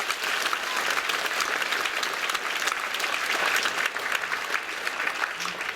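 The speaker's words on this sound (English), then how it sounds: "Let's give another round of applause for everybody, please." Audience applause at a school writers' week event, a steady dense wash of many hands clapping throughout, full and sustained with a faint crowd murmur beneath.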